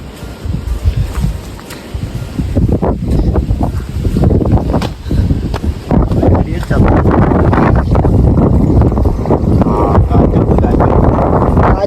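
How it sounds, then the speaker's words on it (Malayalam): Strong wind gusts at a high tourist viewpoint in Kerala overlooking Tamil Nadu, roaring and buffeting close against the microphone and growing steadier and heavier toward the end while someone talks. "നോക്ക് ഗൈസ് നല്ല കാറ്റ്."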